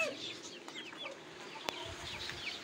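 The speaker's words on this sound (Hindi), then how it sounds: "ये देखो जी अब जो मुर्गी है ना जी देसी वो भी सब बाहर निकाल दिए।" Desi chickens let loose outdoors give soft, scattered clucks and short calls. A sharp louder squawk cuts in partway through, over a faint outdoor background.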